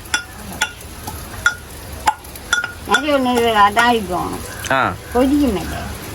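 Onions sautéed in a pan while being turned, sharp metallic clinks of utensil on pan over a faint sizzle, close, with a voice talking over the second half.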